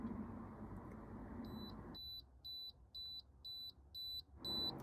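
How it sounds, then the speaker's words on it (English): A small sensor unit beeps after its find button is pressed: six short, evenly spaced high electronic beeps, close and clear over a soft hiss of background noise. "You can press this little find button and it starts the thing beeping."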